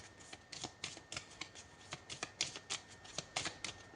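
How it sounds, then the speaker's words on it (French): A deck of tarot cards riffles and shuffles close up in a quiet room, a steady run of quick, crisp bursts of card flutter repeating roughly twice a second. "j'ai pris un tarot et je n'ai pris que les cartes majeures"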